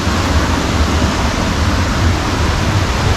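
Water pours over a small dam on a river by a watermill, a loud, continuous rushing roar that stays steady throughout with no voices.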